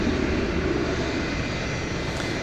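Airplane at DFW Airport on runway 18 left, a steady broadband engine roar that holds constant and fairly loud throughout, with no audible talk.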